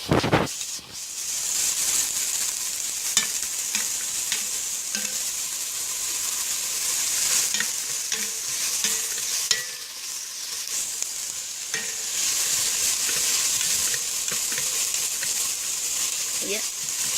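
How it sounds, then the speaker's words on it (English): Chopped onions fry in a pan with a steady, loud broadband sizzle, while a utensil stirs them in occasional scraping knocks. "And I let that stir around. Get some color on those onions."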